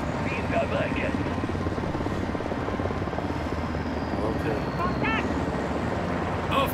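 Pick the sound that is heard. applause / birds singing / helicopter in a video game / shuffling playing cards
helicopter in a video game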